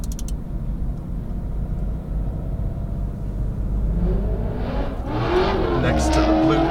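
Porsche 911 GT3 RS pulling out from the pit lane onto a race track under gentle throttle, its steady engine drone swelling as it accelerates, with a voice talking over it.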